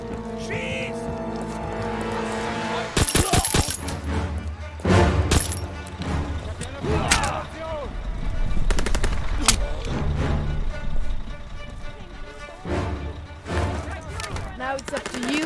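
Call of Duty WWII gameplay carries bursts of rifle and machine-gun fire, with sharp gunshots and rattling volleys coming in uneven waves. Voices shout in German over the shooting.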